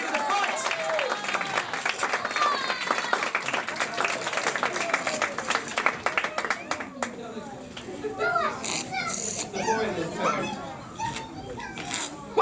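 Audience at a family magic show clapping as a young volunteer walks up, the applause mixing with children's voices and crowd chatter, fairly loud and continuous.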